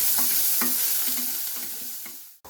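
Steady sizzling of small onions frying in a pan, with periodic scraping and stirring strokes, close up and fairly loud, then a sudden stop near the end.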